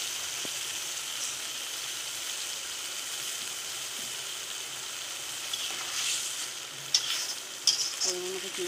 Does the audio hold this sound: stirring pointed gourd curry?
yes